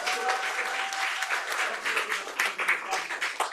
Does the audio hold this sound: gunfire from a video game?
no